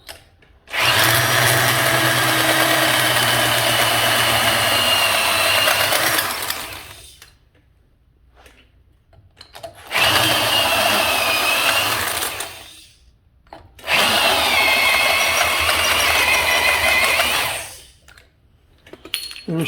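A hole saw on a power drill cutting through swollen lug nut caps on a Ford F150 wheel, three loud sustained whining grinding runs, each several seconds long, separated by pauses of near silence.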